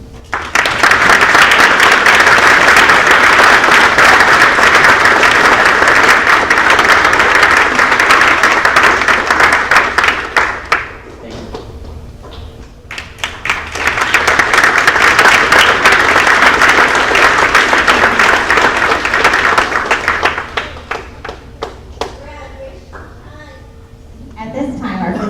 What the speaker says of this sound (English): everybody please join me in applauding the students